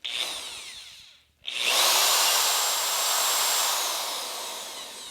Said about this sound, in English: But let's see what this drill does.